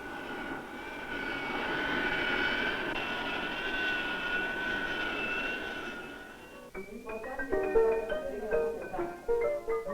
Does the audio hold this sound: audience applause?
no